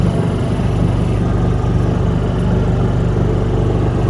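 A gas golf cart bought at auction running at a steady loud idle right after starting, a close, rhythmic low engine chug that holds even throughout.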